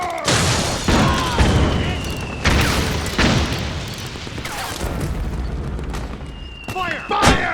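Gunfire and explosions from the video game Metal Gear Solid 4 come as a string of loud, sharp booming shots and blasts with echoing tails, mixed with shouting voices throughout.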